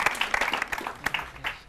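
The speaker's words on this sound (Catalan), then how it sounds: "Fort aplaudiment." Audience applause on a Catalan TV word-spelling game show, a short burst of clapping with scattered sharp claps, moderately loud and with no talk over it.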